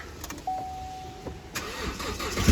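A Chevrolet pickup truck with an aftermarket performance exhaust cranks and starts, then settles into a throaty, rumbling idle with a deep exhaust note, close by and steady.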